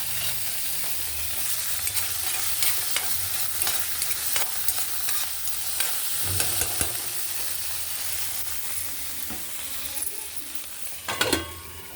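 Okra (bendakaya) frying and stirred in a pan, a continuous sizzle with repeated scraping strokes of the spatula and a few louder clinks near the end, no voices.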